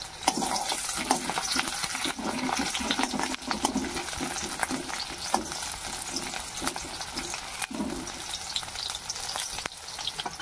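Chopped onions hit hot red oil in a wok, giving a steady loud sizzle and crackle with rhythmic scraping strokes of stirring throughout, no voices.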